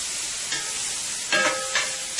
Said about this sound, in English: Don't want to burn your garlic, you just want to saute your garlic a little.